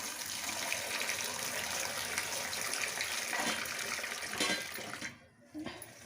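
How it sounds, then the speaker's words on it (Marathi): Running tap water pours steadily over pigeon pea pods as they are rinsed, a close, continuous gush that stops briefly near the end and then starts again. "पुन्हा एकदा धुवून घेणार आहे."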